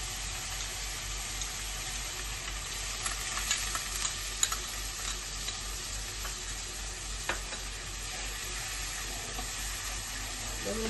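Hot water is poured onto masala frying in a pan, giving a steady hiss and sizzle with faint stirring clicks throughout, close and moderately quiet, with no talking.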